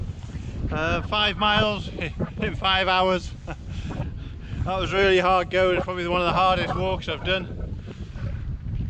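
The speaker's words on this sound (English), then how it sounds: "Excuse the wind, it's still a bit windy." Wind gusts buffet the microphone on a mountain walk in the Welsh hills, a steady low rumble running under a man's close, continuous talking.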